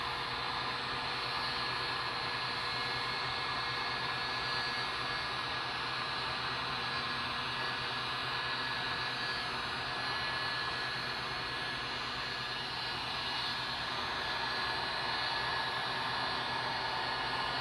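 A heat gun blows a steady, loud broadband hiss as it warms material on a rat rod truck build, running continuously throughout with no talking.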